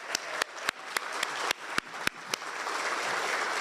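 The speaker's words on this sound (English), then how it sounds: "let's give them a round of applause." Scattered hand claps from an audience at a broadcasting awards ceremony honoring student broadcasters, a few sharp distinct claps at irregular intervals building into a soft, thin patter of applause.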